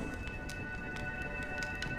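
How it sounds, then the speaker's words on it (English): Steady rain falls in Honkai Star Rail's Penacony, a soft constant hiss with faint patter spread evenly across two seconds, quiet and continuous with no voices. "When will this rain ever stop?"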